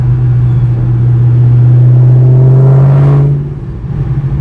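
A Mustang Cobra engine holds a loud, deep, steady drone at constant revs in third gear, then the tone drops and eases off near the end.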